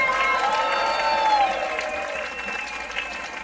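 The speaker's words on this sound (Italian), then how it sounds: "Un applauso doppio, è il suo compleanno stasera." A concert crowd at a tribute show claps loudly and steadily for a band member on his birthday. A few cheers and a thin sustained tone sit within the broad roar of the applause.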